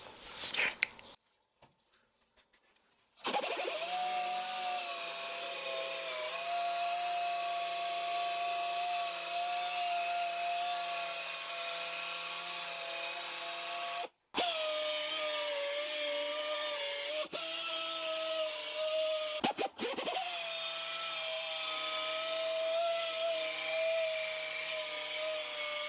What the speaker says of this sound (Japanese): このアングルポリッシャー、ちっちゃいポリッシャー使ってやっていきます